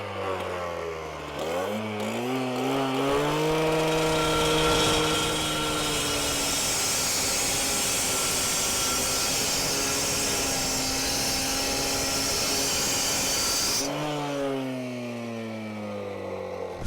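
A 14-inch CAT diamond rescue blade on a power saw grinds through heavy-duty steel: a loud, sustained high-pitched cutting whine with motor drone, spinning up at the start and winding down near the end, no talking.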